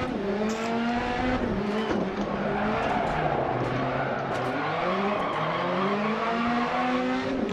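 Rally car sliding across gravel on an online RallyX stage in the Dirt Rally game, engine revving in wavering harmonic sweeps over a continuous loud rush of tyres skidding on loose stones for the whole stretch.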